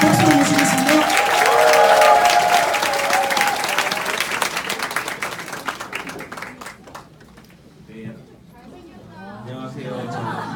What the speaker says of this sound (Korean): 큰 박수와 함성으로 모셔주셨으면 좋겠습니다